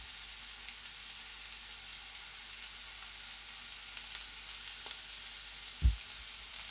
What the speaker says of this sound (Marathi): आता आपल्याला मटणही तेलामध्ये छान परतून घ्यायचं आहे सगळ्या फोडी परतल्या गेल्या पाहिजेत तेलामध्ये